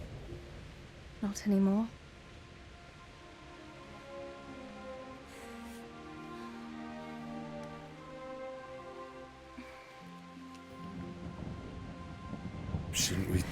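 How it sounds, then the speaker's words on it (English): Rain from a thunderstorm in Kingdom Come: Deliverance, a steady soft wash running under a conversation between characters, with a brief louder rumble near the end. "Not afraid of thunderstorms, are you?"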